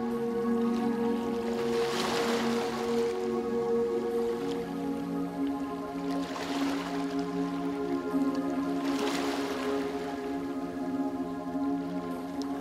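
Gentle ocean waves wash in and recede three times off the Australian coast, soft swells of surf rising over a steady low drone.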